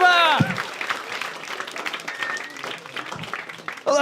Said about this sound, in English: Start the round of applause.